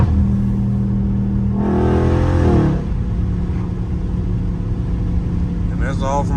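A Dodge Challenger Scat Pack accelerates hard, its loud engine roar climbing in pitch and then dropping at a gear shift, heard from inside the car under ongoing talk.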